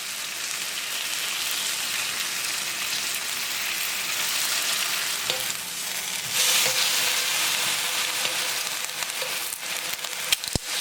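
Grilled eggplant brushed with gochujang sauce sizzles in a pan over low heat, a steady bright crackling hiss throughout with a few small clicks near the end.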